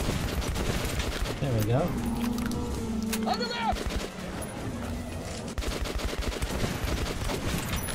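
A shotgun blasts repeatedly in Metro Last Light, sharp, loud reports firing in quick succession against a watchman, mixed with creature cries and a player talking over the action.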